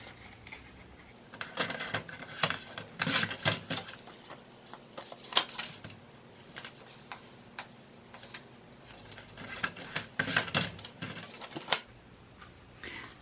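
Scissors snip through junk journal paper in a series of sharp, irregular crisp cuts, with short pauses and rustling between bursts, close and fairly loud.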